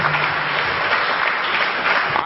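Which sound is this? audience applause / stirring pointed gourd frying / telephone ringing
audience applause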